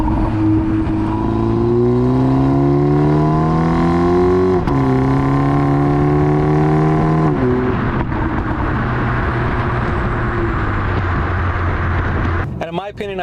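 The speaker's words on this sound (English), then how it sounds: "I mean, just the car open up, you could hear the exhaust finally." A BMW G20 330i fitted with a VRSF downpipe, exhaust droning loudly as the engine climbs through a long pull with a shift, then settling to a rougher lower note before a few sharp clicks at the end.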